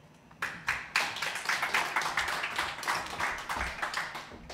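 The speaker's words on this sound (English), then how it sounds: "I think you deserve another round of applause." Audience applause fills a hall after an artist's speech at a FirstRand Namibia art unveiling, steady dense clapping rising after a quiet start and holding at moderate level throughout.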